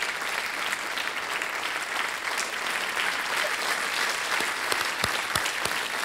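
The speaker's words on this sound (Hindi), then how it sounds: "तालियों के साथ इनका स्वागत करते हैं" Studio audience at a televised quiz show applauding to welcome a contestant, a dense continuous wash of clapping from many hands, loud and sustained throughout with no talk over it.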